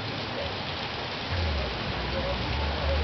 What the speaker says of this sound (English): I'm recording the rain.